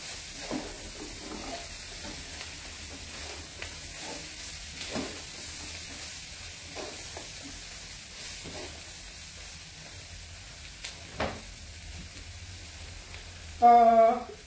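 Tofu frying in a pan for spicy salt tofu gives a soft, steady sizzle with repeated scraping strokes of stirring, close and fairly quiet, ending in a louder clatter; no speech is heard.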